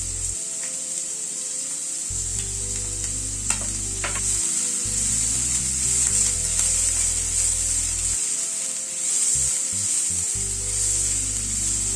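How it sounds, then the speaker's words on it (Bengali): Chopped onions fry in hot oil with a strong continuous sizzle and hiss, punctuated by a few stirring scrapes, close and loud throughout, with no voices. "পেঁয়াজ কুচিটাকে আগে হালকা একটু ভেজে নিচ্ছি"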